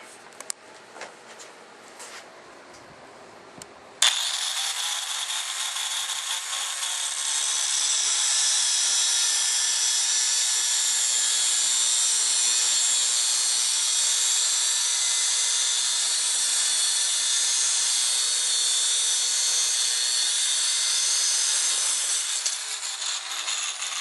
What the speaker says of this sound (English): Now we need to cut the bayonet lug off.